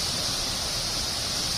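A Kepahiang waterfall roars as a constant, dense rush of falling water, loud and unbroken through the whole moment.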